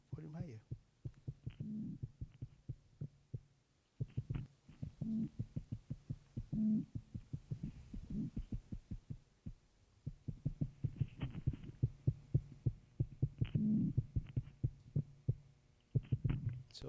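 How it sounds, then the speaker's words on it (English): Mudskipper calls picked up by a hydrophone in mud: rapid trains of sharp, close clicking pulses in bursts with short pauses, with faint voices murmuring underneath. "This is sound of mud skipper."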